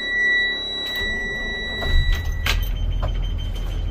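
A 2021 Thomas Saf-T-Liner C2 school bus starts up: steady electronic warning tones sound, then the engine cranks and catches, settling into a low, loud idle.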